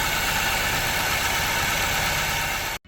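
An Audi Q3 in limp mode with a stuck throttle body idling, a steady continuous engine hum up close that cuts off abruptly when switched off.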